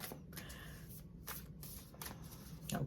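A tarot deck is shuffled close up, soft rapid riffling and papery slaps in short quiet bursts.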